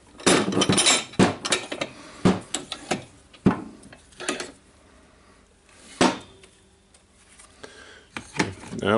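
Metal wrench clinking and knocking against a stuck drill chuck clamped in a vise, several sharp irregular clanks with pauses between, close and fairly loud.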